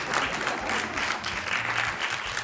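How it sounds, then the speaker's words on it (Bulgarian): Steady, dense applause from a TV studio audience on a Bulgarian Saturday-night entertainment show, loud and continuous throughout with no talking over it. "Извинявай, аплодисментите са за теб."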